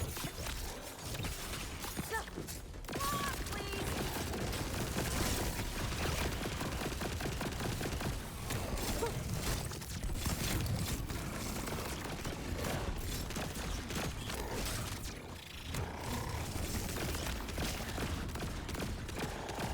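Sustained rapid gunfire from an Order assault rifle in Borderlands 4, dense overlapping shots with crashes and impacts rolling on nearly nonstop, with brief dips in the barrage.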